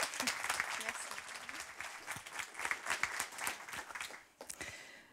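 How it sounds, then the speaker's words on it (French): Audience applause fills a conference hall, a dense steady clapping from a crowd that swells and then fades out near the end. "c'est Fleur Daugey, sous vos applaudissements"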